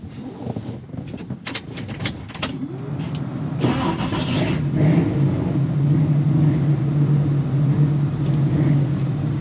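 A 1966 Chevrolet Nova with a 383 V8 on a test drive: a few door and interior clunks, then the engine fires and settles into a loud, steady, deep rumble up close.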